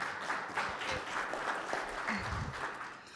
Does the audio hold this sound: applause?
yes